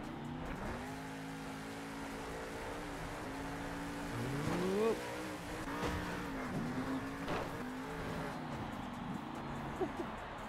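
Monster truck engines from the Monster Jam Steel Titans 2 video game rev and drone loudly and steadily, with rising and falling pitch sweeps and occasional tire squeal throughout.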